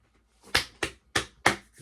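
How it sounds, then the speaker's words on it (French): Four sharp hand claps at the end of a recording session, evenly spaced about a third of a second apart, loud and close, followed by a softer fifth clap, with silence in between. "J'ai toujours un réflexe d'applaudir quand je fais une vidéo."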